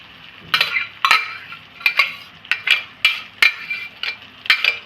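Mashed, boiled pav bhaji vegetable mixture goes into a pan with a run of about a dozen sharp metal clinks and scrapes from a spoon knocking the pan, close and fairly loud, in a steady, uneven rhythm with no talking.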